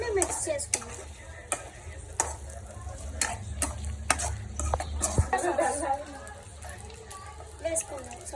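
Chicken fried rice with Schezwan sauce is stirred in a pan, a spatula scraping and clattering against the metal in irregular strokes over a low frying hiss, with a voice audible at times.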